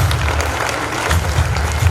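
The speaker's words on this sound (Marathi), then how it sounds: "जोरदार टाळ्या कपिल भैयांसाठी" Audience applause at a Marathi award ceremony for educators, dense and steady clapping throughout with no voices over it, loud and close.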